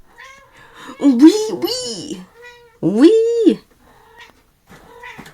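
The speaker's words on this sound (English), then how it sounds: "that's my cat" A pet cat meows loudly and close by in two drawn-out, wavering cries, with a fainter short meow after, while a person talks over and between the calls.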